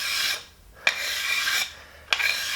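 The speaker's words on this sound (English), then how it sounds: "I'm going to use the cabinet scraper here." A cabinet scraper shaves a wooden balafon key in two long, rasping strokes. Each stroke starts with a sharp catch and then a bright scraping drag, close up, separated by brief pauses, with no talk.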